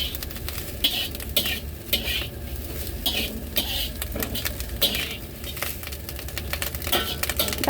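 Slices of lobak ko, a radish cake, fry in a pan over medium heat with a continuous sizzle and rhythmic scraping and tapping from a utensil against the pan, heard close, with no talking.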